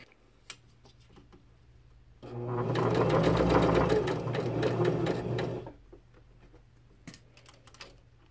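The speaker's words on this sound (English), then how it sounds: "just slowly feed it through the sewing machine" A sewing machine stitches felt for a plush gnome in a steady, rapid run of needle strokes lasting about three seconds, with quiet handling clicks before and after.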